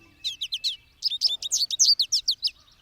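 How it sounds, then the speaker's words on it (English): American goldfinch perched on a sunflower head while pulling out ripe seeds gives bright, quick chirps, a short burst of four notes, a pause, then a longer run of rapid twittering, close and clear with no other sound. "An equally yellow American goldfinch lands on the huge flower head and begins pulling out ripe seeds."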